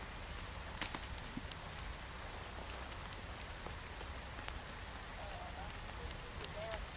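Rain falls steadily in the survival video game The Forest, a faint, even hiss with scattered droplet ticks that runs unbroken throughout.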